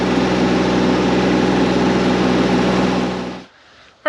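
A CAT 302.5 mini excavator engine runs at a steady, loud idle with an even low throb, then cuts off abruptly near the end, leaving near silence before a brief bump.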